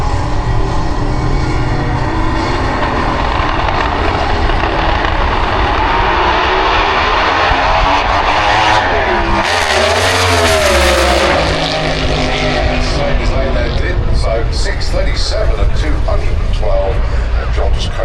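Pro Modified drag car on a qualifying run down the Santa Pod strip, a loud, roaring engine that surges and shifts in pitch midway, with commentators talking over it throughout.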